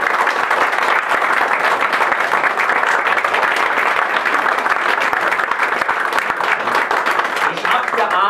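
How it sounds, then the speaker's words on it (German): Warm, sustained applause for musicians at an art exhibition opening, a dense continuous patter of many hands filling the room at an even, loud level with faint voices mixed in. "dass die jetzt nochmal einen besonderen Applaus zu verdient haben"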